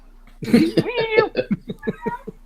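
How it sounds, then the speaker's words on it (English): A cat meowing close by, giving a series of short, chattering, harmonic cries that rise and fall over a couple of seconds, heard alone with no talk. "Shut up, cat."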